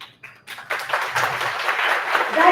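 An audience at a book launch breaks into applause after a couple of brief voice fragments, the clapping building quickly from scattered hands to a full, steady round that keeps growing louder.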